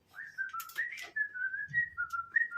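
A person whistles a tune while walking home, a continuous wavering melody held for the whole stretch with short breathy accents, fairly close and alone without speech.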